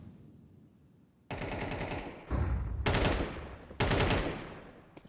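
Bursts of automatic gunfire from a Counter-Strike round on the Mirage map: a loud opening burst, then several heavy volleys in quick succession, close and dense with no talk.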